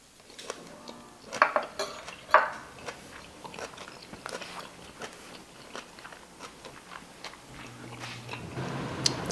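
Someone eats cabbage cooked with bacon and peppers, with crisp bites, chewing and clinks of cutlery on a plate, close and fairly quiet, a few louder crunches standing out.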